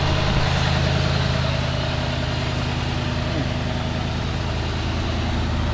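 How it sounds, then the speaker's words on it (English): A 2001 Cadillac Deville Northstar engine with a blown head gasket and an exhaust leak idles in a steady, close, unbroken rumble with an even, slightly ticking pulse. "I got an exhaust leak up under here somewhere"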